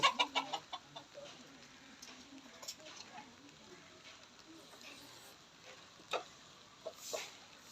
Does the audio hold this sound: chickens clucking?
yes